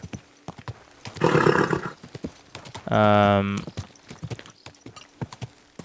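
Steady clip-clop of horse hooves in the video game Kingdom Come: Deliverance 2, with a loud whinny and a second long neigh breaking through the rhythmic footfalls.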